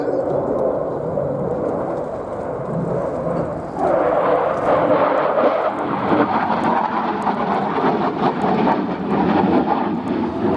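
A Polish Air Force MiG-29A jet in a flying display roars loudly and steadily overhead, its engine noise swelling midway and staying powerful and sustained.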